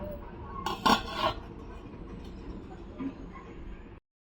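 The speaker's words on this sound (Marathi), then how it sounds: "आता मी आहे ना झाकण ठेवते" Metal lid set down on a pot of pea pulao, a brief clattering clink close by followed by a lighter knock, then quiet cooking background with soft speech.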